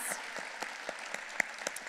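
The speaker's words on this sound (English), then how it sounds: "Let's give TheaterWorks a round of applause" Scattered, sparse hand claps from a small audience greeting TheaterWorks as recipient of a Nonprofit Collaboration Award; individual claps stand out clearly, fairly close, over a quiet background, with no speech.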